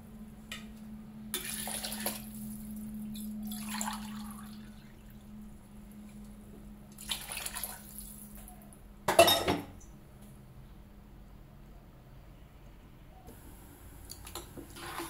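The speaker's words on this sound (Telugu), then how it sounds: "నేను 2 గ్లాసులు తీసుకున్నాను కదా, 3 గ్లాసులు వాటర్ వేస్తాను." Water poured from glasses onto rice in a pressure cooker: a few short, splashy pours with faint clinks of glass, separated by quiet pauses.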